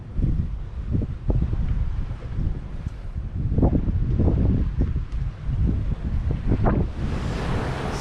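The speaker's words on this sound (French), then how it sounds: "Il y a un petit vent, 16-20 nœuds." Wind buffets the microphone aboard a sailboat crossing between Antigua and Barbuda in a 16 to 20 knot breeze. The gusts are loud and continuous and mix with splashing waves against the hull, with no speech.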